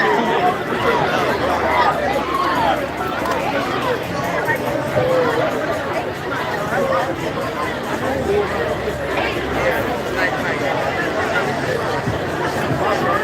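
A dense spring break crowd on South Beach chatters nonstop, many overlapping voices forming a loud, steady hubbub all around without any pause.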